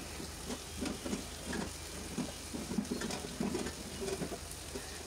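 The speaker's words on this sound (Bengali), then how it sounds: "এভাবে কিছুক্ষণ ভেজে নিচ্ছি।" Chicken for satay frying in a pan gives a quiet, steady sizzle with soft intermittent crackles and stirring scrapes, heard alone without talk.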